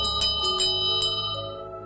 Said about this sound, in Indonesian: Wanita itu masih membunyikan lonceng